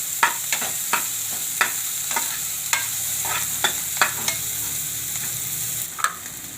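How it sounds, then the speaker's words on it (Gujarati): Onions frying in oil until golden brown for a semolina snack, a loud continuous sizzle broken by regular sharp scrapes and taps of a spatula stirring in the pan, no talking. "ડુંગળીને આપણે સેવ ગોલ્ડન જેવી થવા દઈશું, ગોલ્ડન બ્રાઉન જેવી થવા દે."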